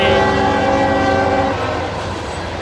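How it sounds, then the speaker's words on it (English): A train rumbles past close by, loud and steady, with a heavy droning roar and faint clattering, easing slightly toward the end. "we got a train coming, guys"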